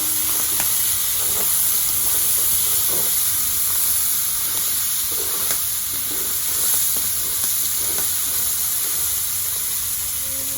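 Onion, curry chillies and tomato sauté in a pan with a steady, hissing sizzle, broken by faint scrapes of stirring throughout, up close with no voices.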